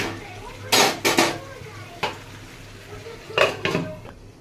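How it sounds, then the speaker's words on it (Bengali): A lid clatters onto a pot of frying goat offal, with several sharp metallic clanks and knocks of cookware, close by and fairly loud amid faint kitchen background. "এবার এর মধ্যে একটু ঢাকা দিয়ে দেবো"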